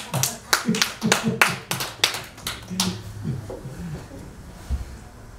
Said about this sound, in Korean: 이럴 때 박수 한번 치는 게 안 좋습니까?